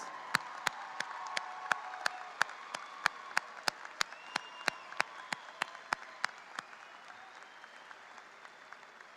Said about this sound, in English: Please stand up if you're an employee of an SISD so that we can thank you with a loud round of applause.